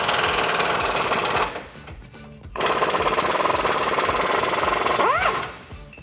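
A 15 mm socket on a power tool loosens a suspension nut on a 4WD Ford F-150 during a lift kit install: two loud, close, rapid rattling bursts separated by a short pause, the second ending with a brief whine.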